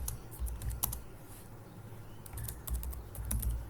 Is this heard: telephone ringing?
no